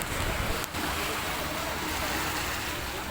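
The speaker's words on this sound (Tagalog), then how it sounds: "Grabe yan, lakas ang alon ngayon" Strong ocean waves at high tide on a crowded Boracay beach make a constant loud wash of surf and wind noise, and a voice is heard briefly over it.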